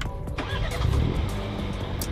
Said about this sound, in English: So obviously start the car up